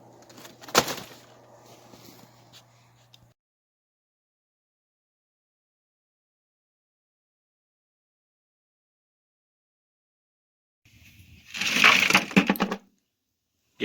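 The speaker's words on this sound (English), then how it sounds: "I just throw a couple these little chunks in there." Small chunks of beach coal land in a wood stove with sharp crunching clatters, heard as two separate bursts with a long silent gap between them.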